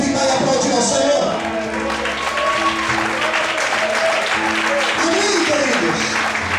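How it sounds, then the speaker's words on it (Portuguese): A church congregation applauds together, a sustained wash of clapping filling the room at steady volume, with voices and musical tones threading through underneath. "Quantos podem verificar e aplaudir ao Senhor?"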